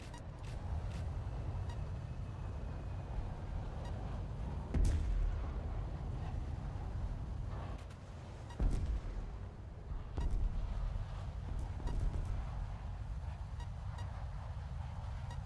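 Bombs dropped from an F2-A jet in a video game, with several heavy low explosions bursting out of a constant roaring engine rumble, spaced a few seconds apart and heard without talk.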